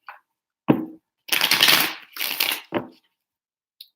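A deck of tarot cards being shuffled in several quick riffling bursts, crisp papery flutters separated by short pauses, close and clear with no talking.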